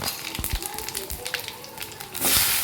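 Spices sizzling in hot oil in a kadai, a steady crackling fry with scattered pops, growing louder and fuller toward the end.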